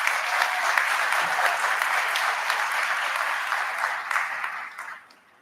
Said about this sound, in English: please join me in giving these 2 groups a round of applause